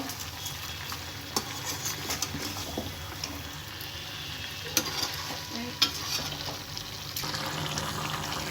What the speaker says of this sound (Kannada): ಇದಕ್ಕೆ ಉಪ್ಪು ಹಾಕೊಂಡು ಚೆನ್ನಾಗಿ ಮಿಕ್ಸ್ ಮಾಡ್ಕೋಬೇಕು.